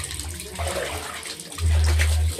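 A weak stream of water runs from a tap into a container. It makes a soft, steady trickle that swells into a fuller, louder rush near the end.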